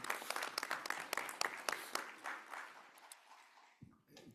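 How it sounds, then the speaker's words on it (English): Audience applause at a special board workshop meeting on redistricting: a burst of many hands clapping, steady and fairly close for about three seconds, then thinning out and fading before a brief final knock. "I just want to give you a round of applause and thank you for giving the time tonight"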